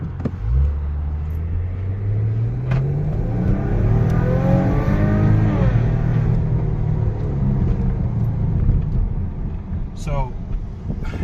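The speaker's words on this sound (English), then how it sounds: "I'm gonna floor it, and I want you guys to really see what I mean by the turbo lag." A Maserati Ghibli with turbo lag accelerates hard at full throttle, its engine note rising steadily and droning loud and close throughout, with a brief shift-like break near the end.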